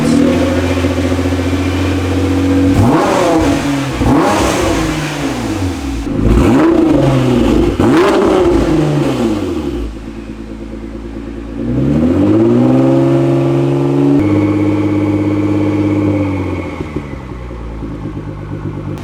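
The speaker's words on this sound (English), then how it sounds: "Motor sounds like it's starting to like kind of hesitate a little bit." A Nissan GT-R engine revs repeatedly in sharp bursts, slightly hesitating, then settles and rises again before dropping to a steady idle, loud and close.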